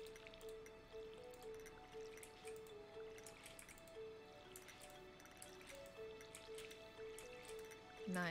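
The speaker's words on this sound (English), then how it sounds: "Okay, let's water our stuff." Crops being watered with a watering can in Stardew Valley: soft, repeated splashy watering sounds in a steady rhythm over gentle farm background music, fairly quiet.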